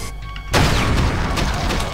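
A gunshot in the shooter game Extermination Day, a Brutal Doom mod, bursts out loud and sudden after a brief quiet, then trails off into a rumbling, noisy decay.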